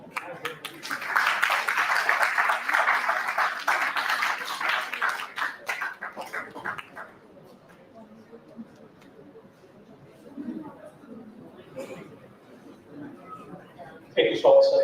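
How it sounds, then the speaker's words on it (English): Conference audience applause at a two-day national health sciences conference, a dense burst of clapping for about seven seconds that fades out, followed by quieter room murmur and a brief sharp noise at the end. "Can we welcome Dr. Aswani with a thunderous applause?"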